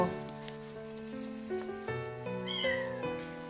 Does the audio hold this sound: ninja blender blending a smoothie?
no